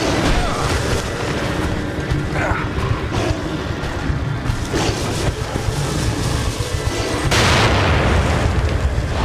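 Several booming grenade explosions rumble one after another over dense game noise in The Evil Within, with a heavier blast near the end.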